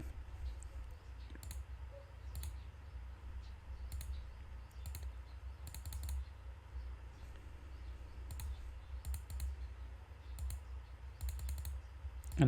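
A computer keyboard gives sparse, light clicks in short bursts across the whole span, with gaps of silence between them over a quiet background hum.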